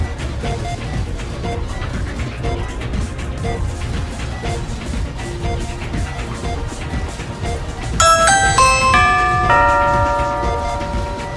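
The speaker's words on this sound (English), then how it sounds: "Can you go ring the doorbell?" A bright multi-tone chime rings out near the end, a descending run of clear electronic notes after a stretch of muffled background noise.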